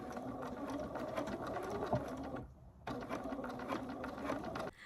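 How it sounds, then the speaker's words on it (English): Sewing machine top stitching close to the edge of a handmade fabric basket, a steady rapid mechanical whirr of stitching that pauses briefly midway, then resumes at a close, even level. "take this over to the sewing machine and I'm going to top stitch close to that edge"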